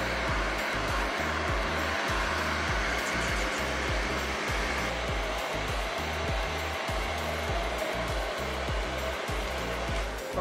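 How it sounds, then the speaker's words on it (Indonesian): A hair dryer blows steadily on a Chihuahua puppy's fur as it is dried, a close, constant whir with a fluttering low pulse and no voices. "Terus di hair dryer dia pelan-pelan."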